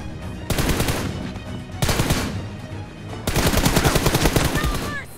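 Rapid automatic gunfire from hip-fire shots in a mobile shooter game's team deathmatch, three long loud bursts of fast repeating shots separated by short pauses.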